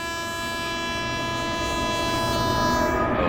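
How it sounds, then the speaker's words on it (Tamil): A train passing in a train simulator video game while sounding its horn, a sustained tonal blast layered over rumbling rail noise that fades slightly at the end. "அப்படியே ட்ரெயின் வந்து ஹார்ன் அடிச்சுக்கிட்டே போகும் பாருங்க."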